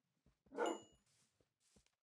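A wild dog barks in Minecraft: one short, sharp bark, followed by faint, soft yips and scuffs, quiet and close.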